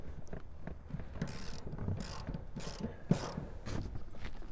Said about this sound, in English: you get a socket on there to remove it.